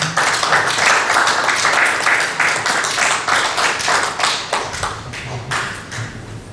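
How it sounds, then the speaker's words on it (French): Loud, close clapping from a small gathering at a commemorative plaque unveiling, individual claps distinct and uneven, thinning out toward the end with a faint murmur beneath. "On peut applaudir."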